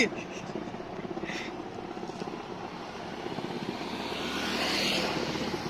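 An aircraft landing at Jammu airport gives off a continuous droning engine roar that swells slightly louder toward the end, heard from a distance with faint voices underneath.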